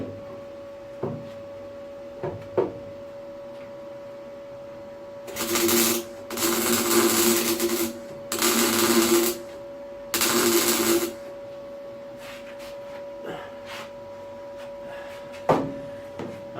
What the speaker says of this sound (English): Should be able to just hold it in place while I weld it.